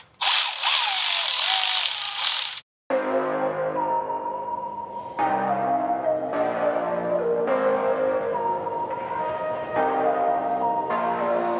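Bolts are being removed from a Dana 60 differential cover on a Jeep Gladiator with a loud power ratchet or impact tool, heard first as one long harsh buzz, then after a short gap as a run of steady whirring bursts, up close.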